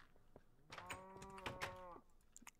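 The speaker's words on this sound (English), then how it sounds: "These cows are so loud." Minecraft cows give a single long, loud, close moo with clear harmonic tones, bracketed by short clicks and faint game sounds, with nobody talking.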